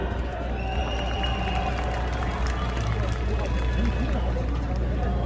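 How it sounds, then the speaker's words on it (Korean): A large protest crowd in front of Seoul City Hall roars in anger at President Yoon Suk-yeol, a loud, dense, unbroken wall of shouting and voices. "이 국민들이 왜 윤석열 대통령을 향해서 분노의 함성을 내짓고 있는지 똑똑히 들으시기 바랍니다."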